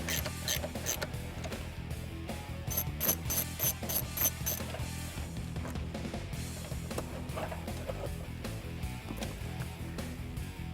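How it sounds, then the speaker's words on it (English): A 10mm socket on a ratchet backing out four shifter screws in a 2014 fifth-generation Camaro, with steady rapid ratchet clicking and rubbing throughout, close and moderately quiet. "we're going to use a 10mm socket and take these 4 screws out completely"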